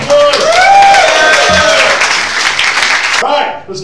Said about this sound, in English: We're going to applaud.